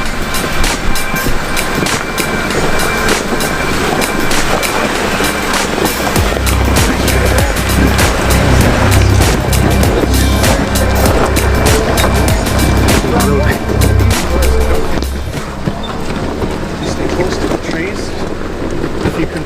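Off-road vehicle motoring slowly up a rocky hill on the Whipsaw Trail in British Columbia, a steady low engine rumble with tires crunching and knocking over rocks, wind buffeting the microphone throughout while people talk over it.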